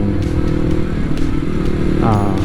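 A motorcycle rides downhill from Khao Khiao toward Pak Chong on a winding mountain road, its engine droning steadily and close, with a brief rev near the end and someone talking over it.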